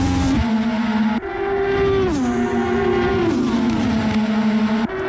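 Race car engines roar loudly and continuously in a sim racing Indianapolis 500 event, with several cars shifting pitch as they accelerate and pass, and no voices over the engine noise.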